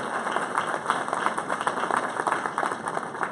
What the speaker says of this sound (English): How about giving them a nice round of applause?